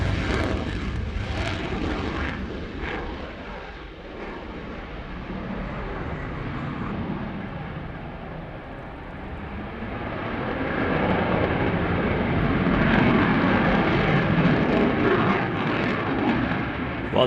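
Belgian Air Component F-16 fighter jet taking off, a loud continuous engine roar that dips slightly mid-way, then swells and stays strong as the jet climbs away.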